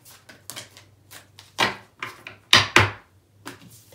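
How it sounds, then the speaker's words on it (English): A deck of tarot cards being cut and handled, heard as a series of crisp close taps and slaps, with two louder snaps near the end and no talking. "I'm going to put it down and cut."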